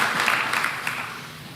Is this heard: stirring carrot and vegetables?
no